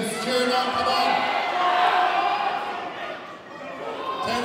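Crowd at a strongman competition cheering and shouting encouragement during a timed event, a steady loud roar of many voices that swells and dips slightly, with individual yells standing out.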